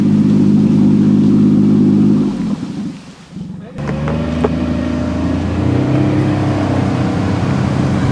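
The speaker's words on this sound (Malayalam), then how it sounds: "ഇവിടെ നമ്മൾ ബോട്ട് എടുത്തിട്ട് അടുത്ത സ്ഥലത്തേക്ക് പോവുകയാണ്" A steady motorboat engine drone cuts out briefly, then the engine restarts and runs on with a lower, rougher hum, loud and close.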